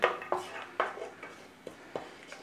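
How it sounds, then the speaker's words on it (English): A spoon stirs fennel seeds and star anise through oil in a pan, making a handful of sharp metallic scrapes and clinks against the pan at an uneven pace, close and fairly quiet. "we're going to add our fennel seeds and our star anise. Give it a little stir around."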